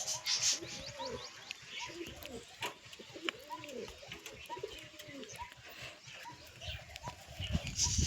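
A young pigeon chick cooing in repeated soft, rising hoots at close range, with scattered bird sounds and human talk in the background.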